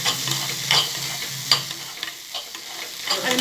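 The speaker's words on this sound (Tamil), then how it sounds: "நல்லா கிண்டி விட்டுருங்க" Grated paneer stirred through a frying masala in a pan: close, steady sizzling with quick, irregular spoon scrapes and clatters, and no voices.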